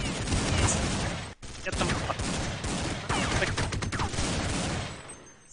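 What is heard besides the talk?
Desert Eagle pistol gunfire in Counter-Strike video game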